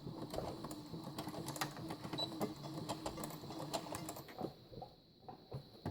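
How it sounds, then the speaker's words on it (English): A sewing machine runs steadily, stitching around the top edge of a fabric tote bag, with a continuous rapid mechanical chatter that pauses briefly near the end. "we're just going to stitch all the way around the top edge of the bag"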